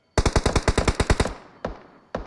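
Automatic weapon fire in the mobile game PUBG Mobile: a quick burst of about ten loud, evenly spaced shots with a ringing tail, followed by two isolated single shots.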